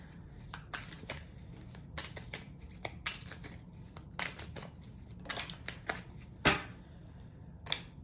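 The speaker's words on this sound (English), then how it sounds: "Let me get one card for their next action." Tarot cards are shuffled and drawn close up: a series of sharp, quiet riffling snaps and flicks at irregular intervals, one louder slap near the end, over a faint background hiss.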